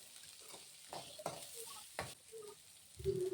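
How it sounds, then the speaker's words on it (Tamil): Beetroot fries in oil with lentils, onion and red chili, a soft steady sizzle broken by close scraping stirs of a spoon in the pan. "உளுந்து, வெங்காயம், வரமிளகா அது கூட பீட்ரூட்டை போட்டு எண்ணெயில ஓரளவுக்கு நல்லா வதக்கி எடுத்துடலாம்."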